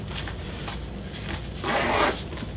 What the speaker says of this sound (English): two zippers on the lid here. And you pull that back.